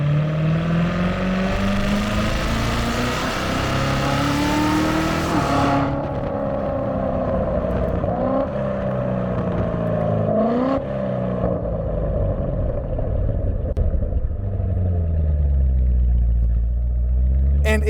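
A C7 Corvette Z06 V8 roars loudly from inside the cabin, climbing steeply in pitch through the gears with sharp drops at each upshift, then settling into a heavy rumbling pull near the end.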